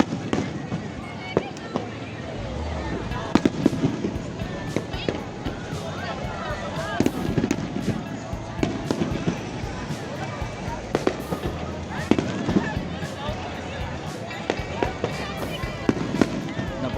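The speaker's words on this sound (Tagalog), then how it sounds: "Napakadaming fireworks." Dense fireworks bursting continuously, sharp cracks and pops one after another, with excited voices shouting and cheering throughout.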